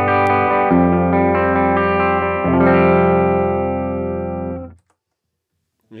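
Electric guitar played through a Headrush pedalboard with the input gain lowered: a distorted chord rings and shifts through a few changes with effects, sustains and fades, then cuts to silence before a faint new onset.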